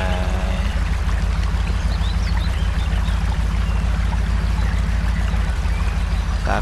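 A truck fords a river in the video game Spintires: MudRunner, with a continuous loud rush of flowing water over a deep, steady engine rumble.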